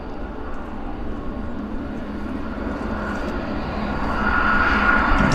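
An Air Canada Boeing 777-300ER airliner at Vancouver Airport gives off a steady jet engine rumble and whine that swells louder toward the end, heard from a distance outdoors with no voices.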